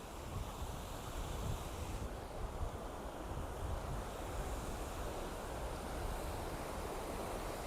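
Steady broadband rush of water at a full river or reservoir, constant and fairly loud, with wind buffeting the microphone and no speech.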